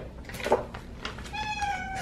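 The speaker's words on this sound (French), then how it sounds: "jusqu'à ce que je lui donne, elle va faire que miauler" A pet cat meows insistently while waiting for a food pouch indoors, a few close, drawn-out cries over quiet room noise.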